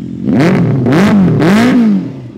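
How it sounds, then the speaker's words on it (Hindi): A Kawasaki Ninja ZX-6R motorcycle with a loud aftermarket exhaust revs up twice close by, the engine note rising and falling in quick throaty bursts. "एंड साथ में इसका एग्जॉस्ट का साउंड आप सुन सकते हो"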